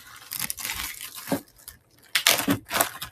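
A plastic bag holding a vintage calendar crinkles as it is handled, with two separate bursts of close rustling and crackling and a short pause between them.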